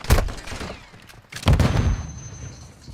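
Pistol gunfire in a competitive video game match: two sharp bursts of shots about 1.3 seconds apart, loud and close, each trailing off into a rumbling decay, with no talk.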